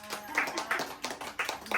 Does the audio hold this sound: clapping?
yes